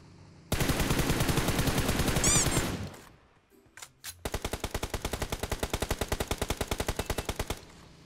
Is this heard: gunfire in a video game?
yes